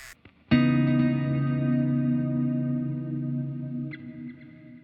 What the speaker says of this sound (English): I'm going to keep the compressor on Heliosphere, and I'm going to keep that dynamic hall reverb on as well